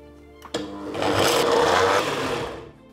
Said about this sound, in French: On va pouvoir les passer au blender.